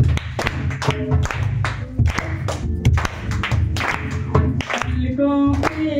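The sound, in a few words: congregation clapping along to a worship song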